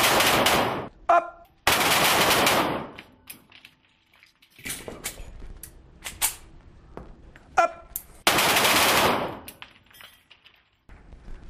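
Handgun fire during a close-range combat shooting drill: several short, sharp bursts of quick shots separated by quieter gaps filled with faint clinks and rustles, with no talk during the shooting.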